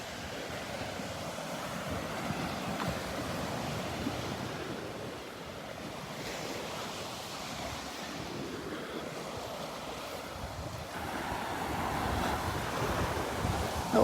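Ocean surf washes steadily onto Delnor-Wiggins beach on a cloudy morning, a continuous broad roar of breaking waves with wind buffeting the microphone and no voices.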